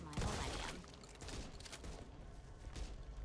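A burst of shotgun fire in the co-op zombie shooter Back 4 Blood, a quiet, dense cluster of blasts mixed with game noise, without any talking.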